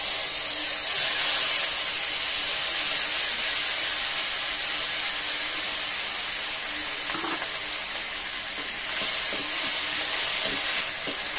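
Ginger garlic paste and dried red chili paste frying with black cumin and panch phoron for a hilsa fish curry, a continuous hissing sizzle with occasional stirring scrapes, close and steady throughout.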